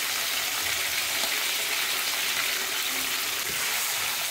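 Half a kilo of bone-in chicken frying in hot oil with curry leaves, a steady dense sizzle with a few sharper crackles and pops throughout, close and continuous with no talk.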